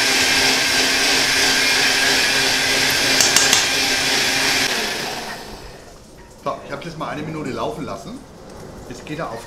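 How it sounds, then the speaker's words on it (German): A blender mixing currywurst sauce runs with a loud, steady whir for about five seconds, then cuts off, leaving a quieter stretch with a voice speaking. "Lasst eure Mixer schön langsam laufen."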